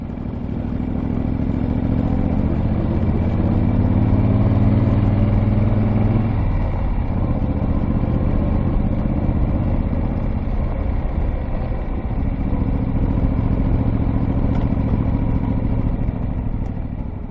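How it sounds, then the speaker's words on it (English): Classic motorcycle engine clattering steadily while riding along quiet back roads, a continuous mellow drone close by with no voices. "The mellow clatter of the bike, a constant companion"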